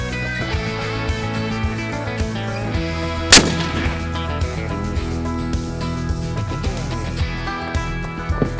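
A rifle fired from a lead sled rest cracks once, sharp and loud, partway through, over a steady tonal background hum.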